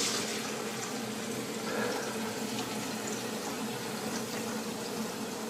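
Steady running cold tap water splashing into a sink as a spoon is rinsed, a continuous hiss-like wash of moderate loudness with no talking.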